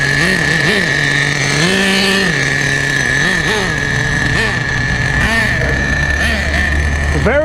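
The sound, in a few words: vintage Duratrax Nitro Quake nitro RC truck engine revving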